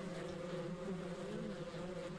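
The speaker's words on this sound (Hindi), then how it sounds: "ये देखो भाई छत्ते से सारी की सारी मधुमक्खियां उड़ चुकी हैं" Bees swarm around a hive in the farming game Ranch Simulator, a steady dense buzzing hum that holds level throughout, soft and continuous with no voices.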